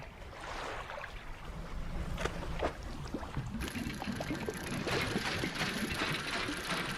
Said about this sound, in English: And we now know how to correctly work our engine.